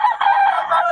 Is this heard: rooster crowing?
yes